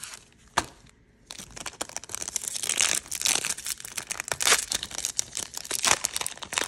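Japanese Pokemon 151 card packs are torn open and handled close up, with crinkling foil, sharp tearing bursts and rustling card shuffles coming in quick uneven waves after a brief opening crackle.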